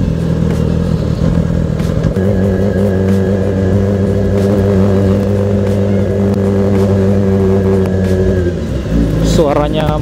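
Loud, close Yamaha R6 sport bike with an Akrapovic full exhaust system holds a steady high rev, then drops briefly and blips again near the end.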